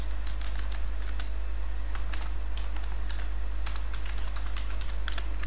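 Rapid, steady typing on a computer keyboard as an email address is entered, dense clicking keystrokes close up over a constant low electrical hum, no voices.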